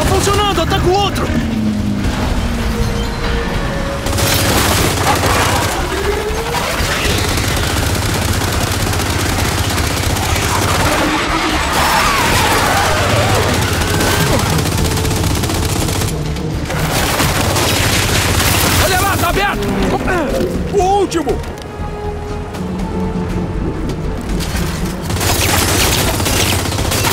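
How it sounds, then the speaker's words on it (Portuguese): Gunfire and explosions from a battle in the video game Gears of War 5 play as a dense, continuous barrage of shots and booms, loud throughout, with voices talking over the fighting. "Concentrem os tiros na revoada."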